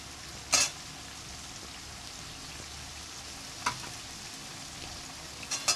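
Faint, steady sizzling of ginger paste frying in a pan, with a few sharp scrapes and clinks of stirring.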